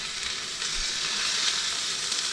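Pork milanese cutlets just flipped in a frying pan, crackling with a steady, dense sizzle close by, no voices over it.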